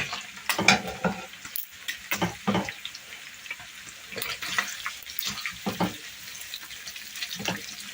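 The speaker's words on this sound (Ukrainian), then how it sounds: "Все це добре перемішуємо." Onion with paprika and caraway frying for Hungarian goulash is stirred in a pot, with bursts of sizzling and scraping spoon strokes rising and falling in uneven rhythm, close by and without talk.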